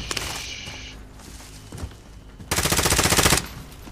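Call of Duty Modern Warfare gunfire near a bunker sounds as scattered shots followed by one loud, dense automatic burst lasting about a second, with softer game noise around it.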